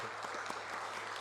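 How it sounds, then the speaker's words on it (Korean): A church congregation claps at a mission society's weekly worship service, a soft, even patter of applause that sounds a little distant and lasts only briefly. "우리 한번 박수 한번 해주시면 좋을 것 같아요"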